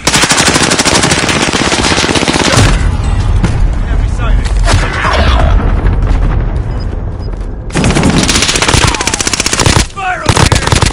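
Video game gunfire roars in loud, dense automatic bursts with occasional heavier booms, almost continuous apart from a lull in the middle, while game character voices call out over the shooting.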